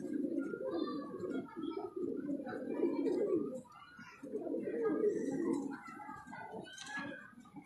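Rampuri pigeons coo in repeated low, throaty rolling phrases, fairly faint and close, with soft chirps and faint background sounds between the bouts.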